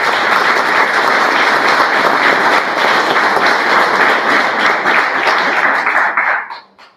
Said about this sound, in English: These 15 brave students deserve a round of applause just for showing.